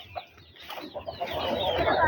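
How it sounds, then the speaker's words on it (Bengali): A hen clucking among her brood of chicks on a village path, short soft clucks rising into a busier stretch of clucking and peeping, close by and fairly quiet. "মাশাআল্লাহ অনেকটি বাচ্চা হয় এই মুরগিটা যখন বাচ্চাগুলাকে নিয়ে বের হয়"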